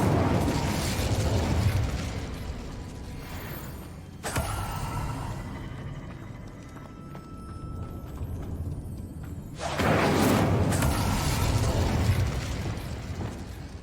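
In Hogwarts Legacy, the Incendio fire spell bursts as a loud fiery whoosh at the start and again later, with a hissing, crackling wash between the bursts over low game ambience.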